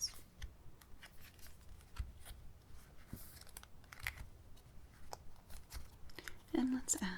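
A deck of Wild Unknown tarot cards being cut and handled, soft close crinkles, taps and card slides at an irregular pace, quiet and intimate, with soft-spoken talk underneath.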